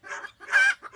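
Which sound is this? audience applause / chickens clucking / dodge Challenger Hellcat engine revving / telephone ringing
chickens clucking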